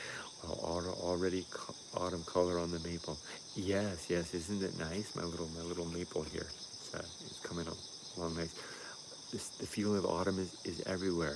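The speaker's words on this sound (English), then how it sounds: "The crickets are coming back." Crickets chirp in a constant high-pitched shimmer outdoors in early autumn near a maple, steady throughout beneath someone talking in the foreground.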